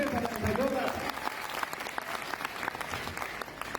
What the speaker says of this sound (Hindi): अभिनंदन वाली तालियां पूरे सदन से जोरदार